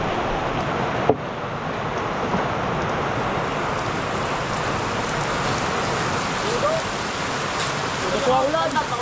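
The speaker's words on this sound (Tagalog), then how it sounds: "Ito ang ulan." Heavy rain pours steadily outdoors in a dense, overgrown garden with chayote vines and lemongrass, a loud continuous hiss with one sharp knock near the start and faint voice-like sounds late on.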